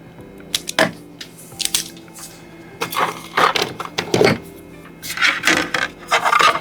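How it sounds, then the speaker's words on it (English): Wire leads for a DIY lightbox are stripped by hand in a series of short, close scraping and rubbing bursts, separated by brief pauses. "So now we're going to strip the wires"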